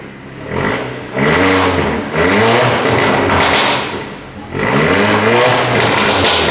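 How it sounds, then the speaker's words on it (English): Mercedes-AMG GT63 S engine revving in repeated bursts, three loud throttle blips that rise in pitch and fall back to idle between them, close by, with no talk over them. "Give it a few revs."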